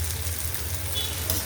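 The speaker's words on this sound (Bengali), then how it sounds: "মাছগুলো একটু ভাজার জন্য" Fish frying in a pan with chopped onion, green chillies and turmeric: a steady, even sizzle of hot oil, fairly close and unbroken for a brief moment.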